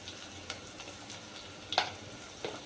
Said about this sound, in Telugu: రెండు బాగా వేగేంత వరకు వేయించుకుందాం.